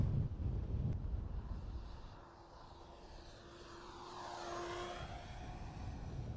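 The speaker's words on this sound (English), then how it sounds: "I'm going to do a low flyby." An FMS T-28D model airplane buzzes past in a low, close flyby, its whining electric motor pitch rising then dropping as it passes, with wind rumbling on the microphone.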